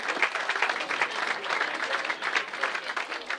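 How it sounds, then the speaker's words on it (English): Audience applause at an awards presentation night, a dense, even wash of many hands clapping throughout, moderately distant and without speech. "So just a round of applause for everyone who"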